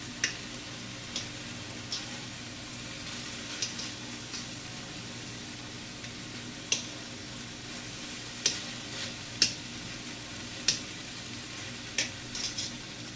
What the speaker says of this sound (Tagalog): Ganun lang kadali mag-barbecue sa kawali.